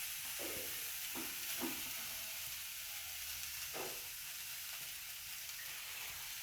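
A passion fruit leaf mixture hits a hot pan, giving a steady close sizzle and hiss with a few short scraping strokes of a spoon.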